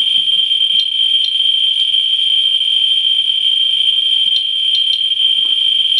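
A Ludlum radiation meter with a 1-inch sodium iodide probe held to a radium-painted compass gives a continuous, loud, high-pitched buzz as its counts run together at a very high rate. The tone is steady and stands alone, with no talk.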